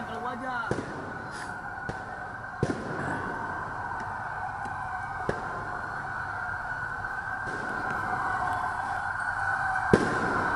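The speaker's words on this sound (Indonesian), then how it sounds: "Polisi sempat menembakkan gas air mata yang dibalas lemparan kembang api." Sharp bangs of fireworks pop intermittently over a steady siren-like drone and crowd noise at a street protest where police fire tear gas, with several loud bursts spaced apart.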